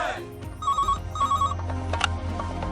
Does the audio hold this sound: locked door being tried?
no